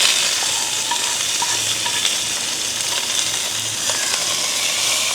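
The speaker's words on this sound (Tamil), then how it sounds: "எண்ணெய் கொதிச்சிட்டுது. இப்போ கடுகு பெருஞ்சீரகம் வெந்தயம் போடுவோம்." Mustard seeds, fennel and fenugreek splutter in hot oil, giving a loud, close, continuous crackling sizzle with stirring scrapes mixed in and no talking.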